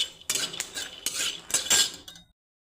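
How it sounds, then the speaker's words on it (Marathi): Peanuts being dry-roasted in a hot kadhai, rattling and scraping in quick bursts of clatter as they are stirred, close and fairly loud, then stopping abruptly. "कढई गरम झाली, आपण शेंगदाणे भाजून घेऊ."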